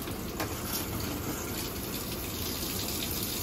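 Water rushes steadily from an RV faucet in an Apex 194BHS camper during de-winterizing, a constant close hiss and gush with no voices.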